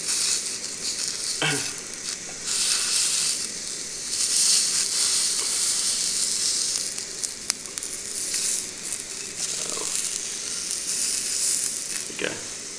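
Sausages sizzle in a pan on a camping stove outdoors on snowy Snowdon, a loud continuous hiss and spatter running throughout, with a few brief clinks and no talking.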